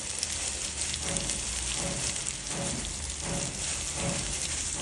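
A crushed peanut and grated coconut mixture, being sautéed as stuffing for chillies, hisses in a pan with a soft, even crackle and faint stirring pulses throughout.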